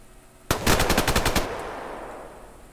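A sniper rifle fires in the online shooter game Survarium: one sharp, loud shot with a fast burst of echoing reports, then a long fading tail, and no talk over it.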